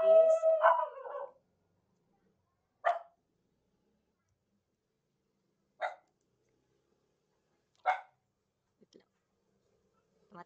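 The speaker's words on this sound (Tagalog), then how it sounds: "tumatahol yung aso." A dog barking in the distance, three or four short single barks spaced a few seconds apart and isolated in silence, after a brief stretch of speech at the start.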